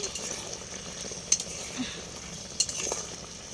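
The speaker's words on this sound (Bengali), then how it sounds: "আর দেখো কি রান্না করছি আজকে একটা সুন্দর রান্না হচ্ছে সাউর চিল্লি রান্না করছি" Sour chilli gravy frying in a pan gives a soft, steady sizzle up close, broken by a couple of sharp clinks of a utensil against the pan.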